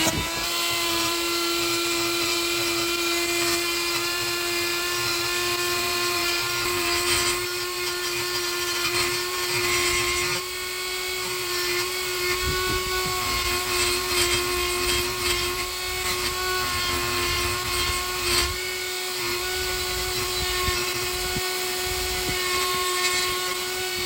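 A high-speed rotary grinder ports the exhaust ports of 799 cylinder heads in a home garage, giving a continuous shrill whine that wavers slightly as it cuts into the metal.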